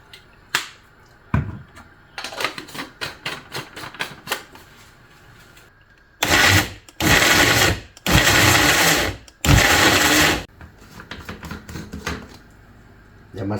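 An electric kitchen blender whirs in several loud, separate bursts while blending a sauce for braised pork leg, after a stretch of scattered clicks and handling noises.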